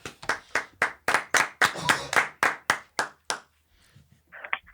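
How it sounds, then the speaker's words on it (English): A comedy club crowd claps for a comedian taking the stage, a burst of hand claps that thins into scattered claps and fades out, followed by a brief faint voice. "Give him a round of applause,"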